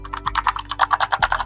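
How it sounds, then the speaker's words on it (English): Keys clatter on an extra-compact SK961 mechanical gaming keyboard, a quick run of about a dozen crisp, close clicks in an uneven typing rhythm with no talk over them. "it's also a mechanical keyboard, as you can hear right here"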